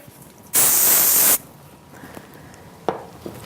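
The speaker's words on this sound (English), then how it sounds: "We're going to go ahead and mist it with our Theory Firm." A single close burst of Theory Firm hairspray mists over backcombed retro-styled hair, lasting nearly a second, followed by faint handling and a couple of soft taps.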